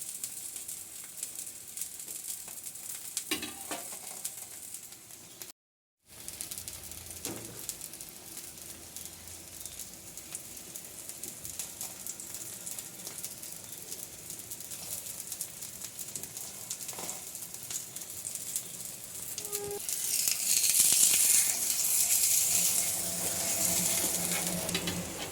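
Thalipattu, a flatbread, fries in oil on a pan with a steady close sizzle throughout, swelling into a louder, hissier crackle toward the end, and no voices.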